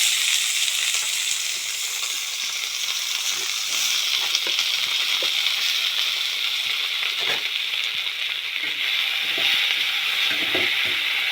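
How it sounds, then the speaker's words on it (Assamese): Steady, loud frying sizzle of brahmi greens with potatoes and onion, with occasional scrapes and stirring clicks, no voices. "এয়া ব্ৰাহ্মী শাক হয়, আলু দি ভাজিছোঁ"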